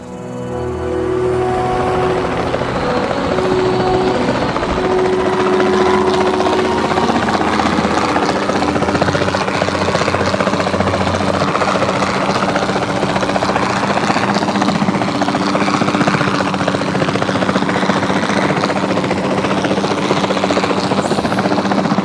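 A helicopter in the dinosaur park game Jurassic World Evolution 2 gives a loud, steady rotor and engine drone that holds for over twenty seconds and swells slightly, with no voices over it.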